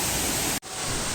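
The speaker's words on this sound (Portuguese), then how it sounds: "Bem bacaninha a cachoeirinha aqui, gostamos mais do que das outras." Small waterfall at Chapada dos Guimarães, Brazil, giving a steady, loud rush of falling water that drops out for an instant midway before resuming.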